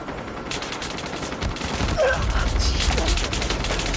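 Rapid automatic gunfire from the Call of Duty Mobile video game in hardcore mode, steady bursts running continuously at close range with a loud, dense texture.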